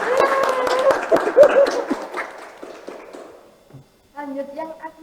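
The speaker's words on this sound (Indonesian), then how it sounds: "beri tepuk tangan dulu" Studio audience clapping at a talk show, a dense burst of applause that fades out, followed by a short stretch of people talking.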